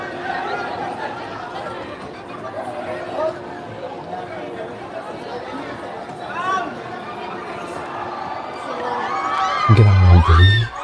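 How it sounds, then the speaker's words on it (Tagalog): A large crowd screaming and cheering at a red carpet film premiere, spread across several floors: a broad, continuous roar of chatter and shrieks that swells near the end, with a nearby person talking over it. "Grabe yung sigawan. Ang daming tao."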